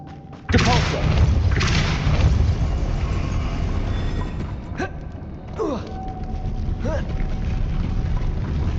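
A Depulso force spell fired in Hogwarts Legacy lands as a sudden loud, deep boom, then rolls on in a sustained rumble with a few sharp whooshing accents.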